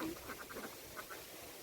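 Ducks at a duck farm where the flock is free-ranged in canals and wetlands give a few short, faint quacks in quick succession over a soft background hiss.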